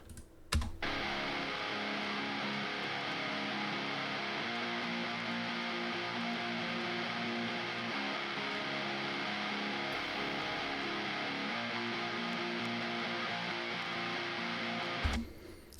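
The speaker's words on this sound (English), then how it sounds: "This is what the rhythm guitars sound like on their own." Mid-focused rhythm guitars with little low end play alone as a dense, sustained wall of distorted strumming that starts abruptly and holds steady before stopping cleanly, with no talking.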